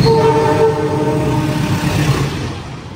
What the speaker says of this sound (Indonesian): kereta api Purwojaya akan melintas di jalur ini